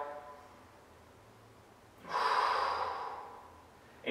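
A single breathing-exercise exhale, a soft airy rush of breath drawn out over about a second and a half, close and fairly quiet, following a stretch of near silence.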